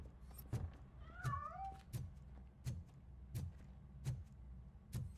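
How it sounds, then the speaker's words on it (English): A cat in the video game RoboCop: Rogue City gives one short, faint meow, set against a steady run of dull, evenly spaced thuds. No one speaks. "That cat must be hiding inside."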